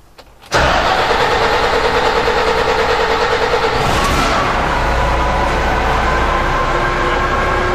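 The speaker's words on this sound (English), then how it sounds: "after engine start" An MMZ diesel engine in an MTZ/Belarus tractor cranks briefly, fires loudly and settles into a steady, rumbling idle close by, with no talking.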